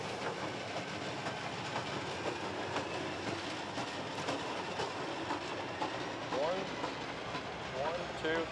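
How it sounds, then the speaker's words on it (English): A short train rumbles and clatters past at Wheeler Lake at a steady roar, with faint wheel squeals near the end and muffled voices in the background. "now we've got a train passing by"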